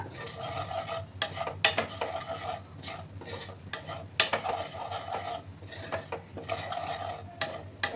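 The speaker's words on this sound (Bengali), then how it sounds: "গ্যাসের আঁচটাকে কম করে দিয়ে আমি হালকা করে একটু ভেজে নিচ্ছি বন্ধুরা।" Spices being dry roasted and stirred in a pan over low heat, with steady scraping and rasping strokes of a spoon against the metal, broken by short pauses, close and fairly quiet, no voices.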